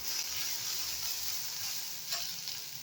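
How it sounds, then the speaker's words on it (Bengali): Vegetables frying in a pan for a healthy home recipe, a soft continuous sizzle with light stirring scrapes, fairly quiet and close with no talk. "দেখুন আমার এই ভেজিটেবলটা কিন্তু যা ভাজা হয়ে গেছে।"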